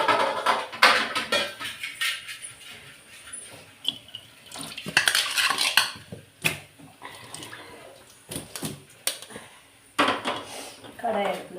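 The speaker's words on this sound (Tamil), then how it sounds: "கடாய் எடுத்து வச்சுக்கிறேன்." A metal kadai is lifted and set down on a home kitchen stove while making masala potatoes, giving several sharp clanks and knocks spread among softer handling noises and faint running water.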